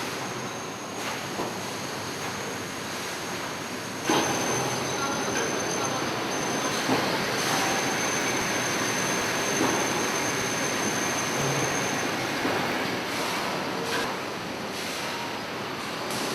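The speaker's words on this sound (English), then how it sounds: "Then bottles are moved into the inner brush washer through the bottle conveyor. This machine brushes the inside of bottles." A bottle-water line's brush washer and conveyor make a loud, continuous mechanical roar with clattering and rattling, and occasional knocks and bursts rise above the steady noise.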